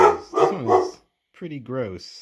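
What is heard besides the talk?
dog barking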